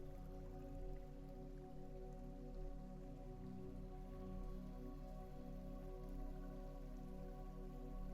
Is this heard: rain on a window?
yes